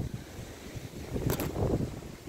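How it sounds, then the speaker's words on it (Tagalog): Strong gusty wind ahead of an approaching typhoon buffets the microphone outdoors in a sponge gourd field, with low rumbling blasts that build toward the end of a brief stretch. "tatas ng hangin dyan, kung madilim."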